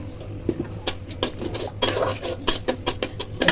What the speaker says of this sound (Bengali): এই তো ভালো করে মশলাটা কষাবো।